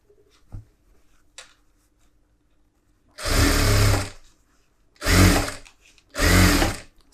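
Sewing machine stitching a blouse sleeve to its body piece in three loud runs: one of nearly a second, then two shorter bursts, each separated by quiet pauses with small handling taps.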